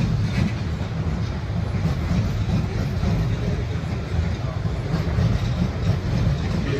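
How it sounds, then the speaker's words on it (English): A train rolls steadily through Clapham Junction station, a continuous low rumble with faint wheel clatter, constant and fairly loud throughout. "I'll just film this one more train and then I'm off."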